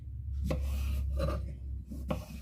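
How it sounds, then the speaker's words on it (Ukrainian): A knife chops zucchini on a cutting board for homemade squash caviar, giving three distinct, fairly close strikes spaced about every three-quarters of a second over a steady low background hum. "Перш за все ріжемо кабачки."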